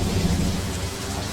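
Heavy rain pours steadily under a low rumble of thunder in a thunderstorm in a video game, loud and dense for a brief stretch with no voices.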